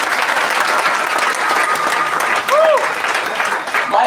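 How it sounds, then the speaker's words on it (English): Loud, steady applause from a large outdoor rally crowd in Gulu, northern Uganda, sustained for several seconds with a few faint voices and whistles mixed in. "please clap for him."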